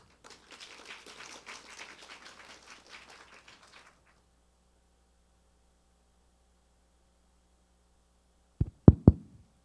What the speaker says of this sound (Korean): 소장님을 박수로 모시겠습니다.